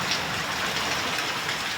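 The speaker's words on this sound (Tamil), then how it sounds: "மழை பெய்யுது அப்படியே அருமையாக நச்சுன்னு செம்ம மழை" Heavy rain pouring down, with water running along the road: a dense, even hiss of downpour close by, steady for the whole stretch, with no voices.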